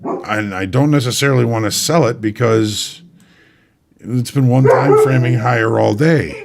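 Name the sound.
pet dog barking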